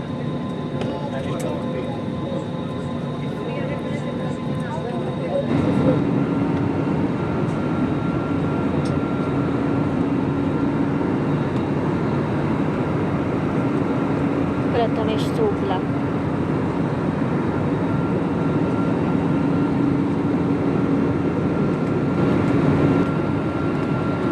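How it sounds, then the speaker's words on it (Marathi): Inside an airliner cabin on a flight to Thailand, a constant engine roar swells noticeably after about five seconds as the plane powers up for takeoff, then holds loud and steady, with voices now and then. "आता उडणार आहे विमान"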